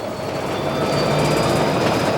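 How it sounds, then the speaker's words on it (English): The Tea and Sugar train runs across the Australian outback, a loud, steady rail rumble with wheel noise and faint squeal that holds throughout, close and continuous with no voices. "train shudders awake with the morning sun"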